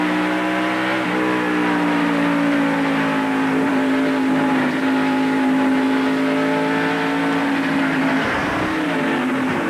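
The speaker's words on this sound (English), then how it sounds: "From Jeff Gordon's in-car camera." Loud, steady roar of a 1993 NASCAR stock car engine from inside the cockpit during the Bud 500 race, holding a sustained high-rpm drone with slight pitch shifts and a brief dip near the end.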